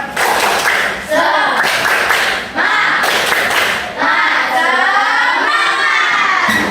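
A group of children in an Indonesian classroom perform a spirited clap chant, with rhythmic bursts of shouting and clapping in three or four loud, energetic phrases.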